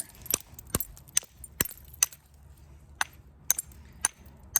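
Flint being knapped to trim the cortex off a rock, about a dozen sharp, crisp stone-on-stone clicks spaced irregularly over quiet, close and fairly faint.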